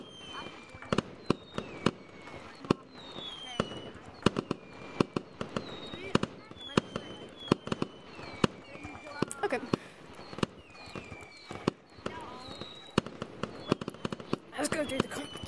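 Fireworks pop and crackle repeatedly at varying distances, sharp bangs scattered throughout with faint whistles and a busy outdoor background.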